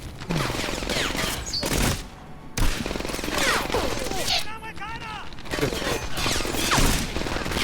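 Sustained automatic gunfire from a light machine gun in the WWII shooter Medal of Honor: Airborne, loud and dense bursts with a brief gap near two seconds, mixed with other battlefield shots and effects; no one talks.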